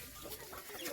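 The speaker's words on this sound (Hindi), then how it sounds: "हमारी मुर्गियाँ देखो खाने के लिए अंदर आ गई" Backyard hen chickens on a hillside homestead in Uttarakhand cluck softly and continuously at close range, a busy low chatter with no talking.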